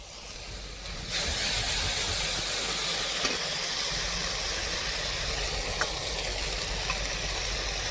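Onion paste hits a hot pan in a Bengali fish curry preparation, setting off a steady, bright sizzle that jumps up after about a second and holds loud and even to the end, with no talk over it.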